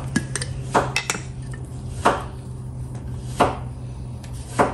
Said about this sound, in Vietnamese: Mình ướp sả ớt là mình để lên cái chảo nướng đó.